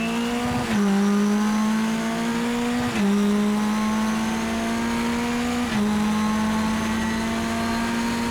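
A Mitjet race car engine screams at high revs on the Magny-Cours circuit, climbing steadily through the gears with sharp drops at each of three shifts, loud and close.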